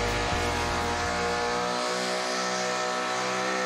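A Ford muscle car revs hard at the Summernats 25 street machine festival in Canberra, a loud, raw engine roar with stuttering pulses that steadies into a sustained blare, close and alone.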